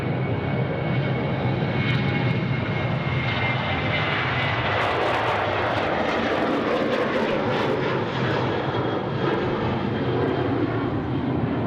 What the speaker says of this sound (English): another quarter 737 now, rolling runway 34 right